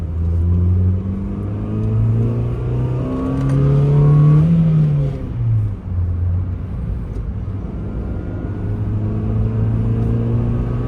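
A 2007–08 Honda Fit Sport (GD3) with an Injen cold air intake revs up and settles, a loud close engine drone rising in pitch around the middle, then holding a steady rumble.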